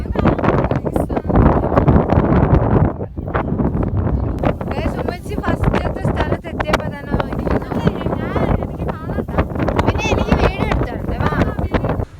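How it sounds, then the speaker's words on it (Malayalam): Loud, constant wind buffets the microphone with a rough, roaring rumble throughout, and a voice is partly buried underneath, outdoors at Wagamon. "ഇപ്പോൾ അവിടെ നല്ല കാറ്റുണ്ടായിരുന്നു. പറയുന്നത് ഒന്നും കേൾക്കുന്നില്ല"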